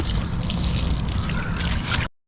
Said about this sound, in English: It's dripping just a little tiny bit